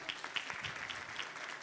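An audience at a fashion show applauds with dense, steady clapping that holds at an even level throughout, with no voices on top.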